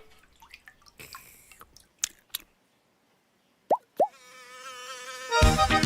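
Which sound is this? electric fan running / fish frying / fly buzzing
fly buzzing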